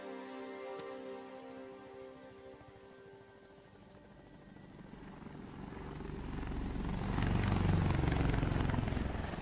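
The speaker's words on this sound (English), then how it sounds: "What's up with the helicopters?" Video game helicopter rotors in Marvel's Spider-Man Remastered thump in a steady rapid pulse, growing louder as a helicopter draws nearer.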